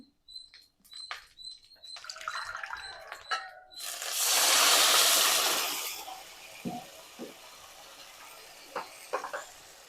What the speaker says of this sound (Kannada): ಆಮೇಲೆ 1 ಕಪ್ ನೀರು ಹಾಕ್ಕೊಳ್ಳೋಣ.